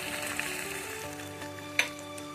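Red chilli powder, cumin powder, a pinch of asafoetida and sugar frying in a pan for Bengali katla fish kalia, a steady close sizzle with a brief sharper crackle near the end.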